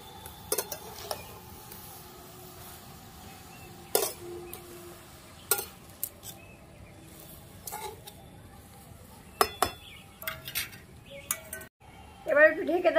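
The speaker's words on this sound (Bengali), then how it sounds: "এবার একটু নেড়ে দেবো।" Cabbage with chillies, water and salt is stirred in a pan with scattered metallic scrapes and clinks of a spoon against the pan, separated by quiet gaps, with a faint sizzle beneath.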